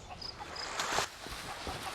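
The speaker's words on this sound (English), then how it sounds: "can't tell if that's the right chicken we need" A chicken in the pirate game Sea of Thieves gives a short burst of clucks, moderately close and set against a steady, noisy game backdrop.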